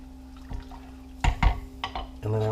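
Hot and sour soup being stirred in a pot, with a few soft scraping and liquid sloshing sounds from the spoon against the pot, close by and moderately quiet over a steady low kitchen hum.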